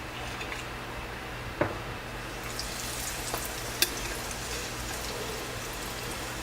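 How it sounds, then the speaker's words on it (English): Panko breaded shrimp, dredged in egg wash and flour, frying in cooking oil over medium heat: a steady, fairly quiet broadband sizzle with a couple of sharp pops or clinks, no talking. "So now I'm going to add it to your cooking oil."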